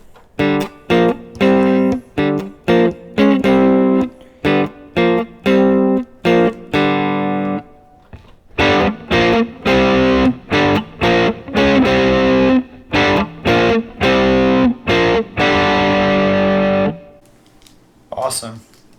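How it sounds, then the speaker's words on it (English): An electric guitar with distortion through a clean amp plays a loud, heavily saturated chord riff. Stabs and sustained chords are broken by brief pauses, and the last chord rings out at the end. "Now let's do distortion on the clean amp."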